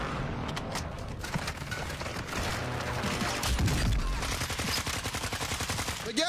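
Rifles fire in a video game match as a rapid, steady stream of gunshots, with bursts that grow denser and louder midway through.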